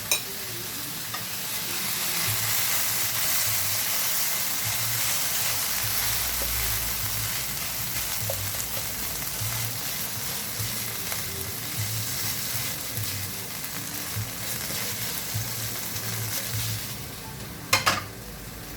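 Courgettes and aubergines frying in a pan, a dense, even sizzle running throughout with faint stirring underneath and a sharp clank of utensil on pan near the end.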